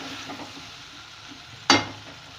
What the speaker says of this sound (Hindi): अब इसे मैं तेज़ आंच करके बहुत अच्छी तरह से 2-3 मिनट भूनूंगी